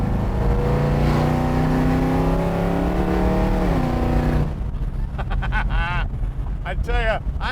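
A Hemi-powered 1970 Plymouth Barracuda restomod accelerates hard, its loud engine note climbing steadily in pitch through the first few seconds before a gear change; afterward wind buffets the microphone and voices talk over the ride.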